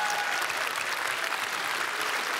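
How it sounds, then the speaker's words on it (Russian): A comedy club audience breaks into loud, sustained applause, dense clapping filling the room evenly from start to finish. "Поаплодируйте, кто делал ремонт."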